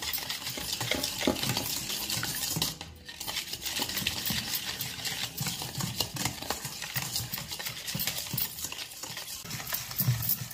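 Powdered sugar being stirred into a bowl for cake batter gives off a steady, busy scraping and clinking of a utensil against the bowl. The sound carries on without pause, with a brief dip near the start.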